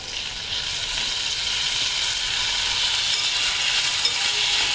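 Tomatoes are added to onions that have been frying until soft and pinkish in a pan for paneer lababdar. A steady, bright sizzle fills the scene, with occasional stirring scrapes, and no one talks.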